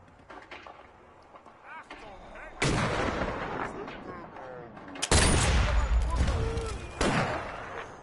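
Gunfire in the virtual-reality shooter Sniper Elite VR on PS4: sharp, loud, booming shots burst in around the midpoint and again later, each with a long echoing tail, while someone talks throughout.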